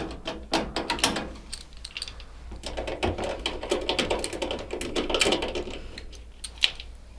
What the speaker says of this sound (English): use your 7mm socket to remove the 3 7mm nuts from underneath the top panel